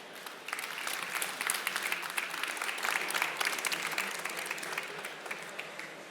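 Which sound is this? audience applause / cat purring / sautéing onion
audience applause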